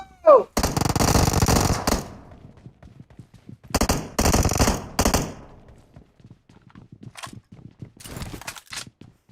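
PUBG Mobile gameplay with loud bursts of rapid automatic gunfire, three separate volleys and a few shorter pops between them, with quieter footsteps and movement in the gaps.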